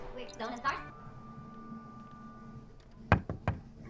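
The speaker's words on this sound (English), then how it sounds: "Did we just knock on our own door?" Two or three sharp knocks on a door inside a video game, heard near the end after a stretch of talk and a steady tone, loud and close.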